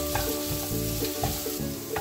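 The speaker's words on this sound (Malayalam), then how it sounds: "നന്നായി മിക്സ് ചെയ്യാം." Onions sizzling in a pan while being stirred for a Kerala kalmas (koonthal, squid) dish, with salt just added; steady frying hiss broken by rhythmic scraping strokes of a spoon, close and clear, no talking.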